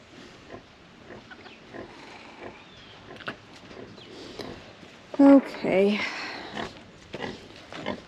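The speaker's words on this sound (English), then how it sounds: "there's pigs here, huh?" Pigs on a farm grunt and squeal in a short, loud burst close by, with a few quieter grunts and scattered farm noises around it and a brief word spoken.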